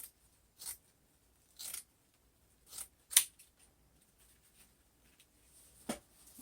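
Scissors snip through ribbon for a flip flop wreath in a quiet room, with six short, crisp cuts spaced about a second apart and faint rustling between them.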